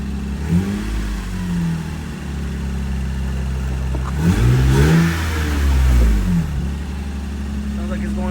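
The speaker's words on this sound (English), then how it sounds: "Rev it." A Lexus IS300 with an exhaust leak idles, then revs in two rising and falling bursts, loud and close, with voices over it.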